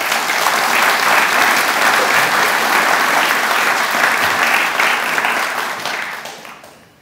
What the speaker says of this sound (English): Fred Carter a round of applause